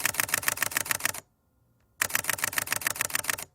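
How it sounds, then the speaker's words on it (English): Rapid, crazy clicking meant as a camera shutter, a dense burst of mechanical clicks that stops for about a second and then resumes just as fast, close and fairly loud. "just do a bunch of clicks, like crazy clicking"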